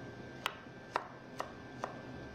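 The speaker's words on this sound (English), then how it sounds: "I'm gonna go ahead and slice it." A knife slicing through fennel on a cutting board, four crisp evenly spaced cuts about half a second apart, close and fairly quiet, no talking.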